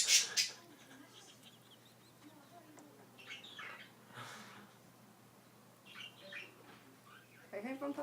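A pet bird squawks and chirps in short bright bursts at the start and end, with scattered calls between while a person talks to it indoors.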